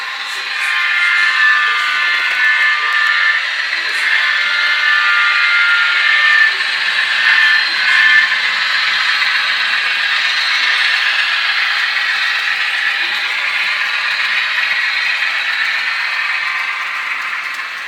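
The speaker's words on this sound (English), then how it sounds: "I hear a train coming." An HO scale model train runs on a large Allegheny Central model railroad layout, giving a steady, continuous whirring rumble that holds at an even level for about eighteen seconds with no talking.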